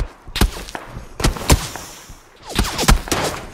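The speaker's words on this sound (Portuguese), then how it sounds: "Tem tiro de tudo que é lado, cara." Gunfire in the PUBG video game, with scattered sharp shots in small clusters and single cracks, fairly close and punchy, separated by short quieter gaps with no speech.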